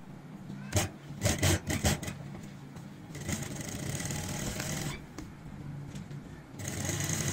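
An electric sewing machine stitches a kurti neckline from one side toward the center, sounding in short rapid whirring bursts and then a longer steady run, close and clear.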